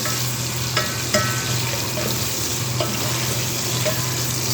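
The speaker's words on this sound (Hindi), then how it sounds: "यहाँ प्याज जो है वो पकना शुरू हो गई है और इसको हम कर लेंगे गोल्डन ब्राउन" Onions for mutton yakhni pulao fry in a pan with oil, a steady close sizzle broken by occasional stirring scrapes and pops, with no talking.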